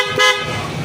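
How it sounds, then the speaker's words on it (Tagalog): A dual contact horn on a Honda ADV 160 scooter gives one short loud toot, a bright harmonic blast lasting under a second at close range. "Tapos loud horn."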